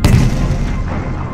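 Naval cannon fire from the ironclad Cochrane firing on the Huáscar: a single heavy, booming blast with a rumbling tail that rolls on and slowly decays.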